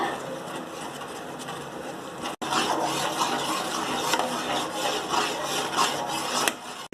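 A spoon scrapes and swirls steadily around a pan of white sauce made with milk, a continuous gritty rasping with a brief break partway through and no talking.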